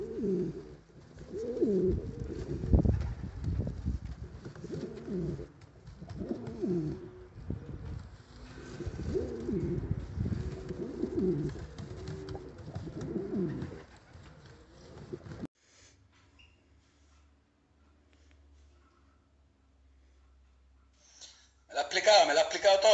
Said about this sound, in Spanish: Ya mismo estamos aquí soltando pájaros y haciendo embreo y en suerte.